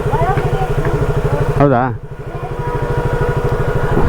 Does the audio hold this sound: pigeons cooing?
no